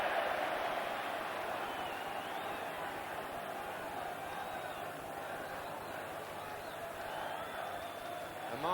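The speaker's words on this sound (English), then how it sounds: "A marvellous crowd" Crowd of supporters at a 1984 second division football match between Liverpool and Newcastle United: a continuous distant roar of many voices that swells slightly and then holds steady throughout.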